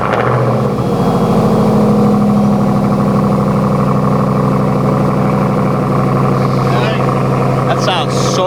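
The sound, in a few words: AWE exhaust on RAM TRX truck, cold start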